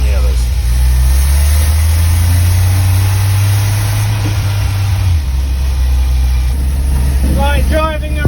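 A Royal Navy tug's engine runs steadily with its choke used as the throttle, a loud low rumbling drone throughout, and voices appear briefly near the end.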